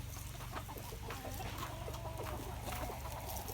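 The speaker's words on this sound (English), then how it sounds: "Then we have 2 unnamed Welsummer roosters." Chickens cluck in short, irregular bursts over a steady low hum, with a Welsummer rooster's voice rising among them; no clear full crow stands out.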